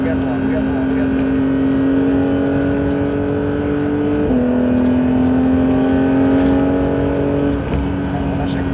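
A Porsche GT3 engine on the track at Mireval, heard from inside as a loud sustained drone whose pitch steps down at gear changes. Talk from the occupants runs over the engine.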